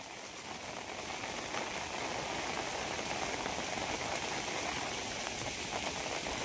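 Steady rain pours down during monsoon planting season in rural Konkan, a dense, continuous hiss of drops on surfaces that stays even and fairly loud throughout, with no voices.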